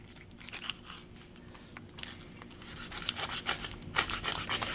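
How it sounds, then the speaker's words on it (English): A knife cutting behind the head of a freshly caught Galveston flounder while it is cleaned, giving scattered crunching and scraping sounds that grow louder toward the end, close by, with no talking. "What we're gonna do is we're gonna cut right behind his head."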